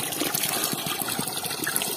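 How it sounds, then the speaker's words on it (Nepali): Water from a waterfall flows in the mountain village of Jhakre in Devchuli, a steady close rushing and gurgling with no pauses. "त्यही झरनाबाट आएको पानी हो यो"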